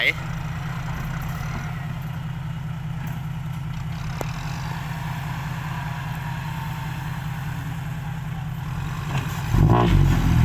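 A tractor's heavy diesel engine idles with a steady low rumble, then revs up louder near the end.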